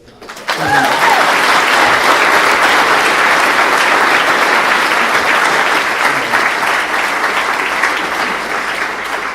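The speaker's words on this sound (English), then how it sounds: "maybe a round of applause" An audience at a talk on being remarkable bursts into a round of applause that starts abruptly and holds loud and dense for several seconds, tapering slightly at the end.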